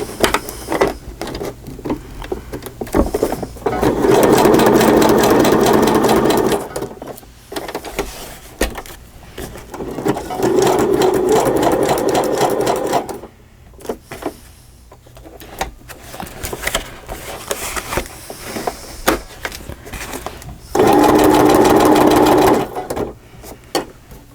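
Sewing machine stitching through paper for a faux crazy quilt journal cover, running in three steady whirring bursts separated by pauses with light handling clicks.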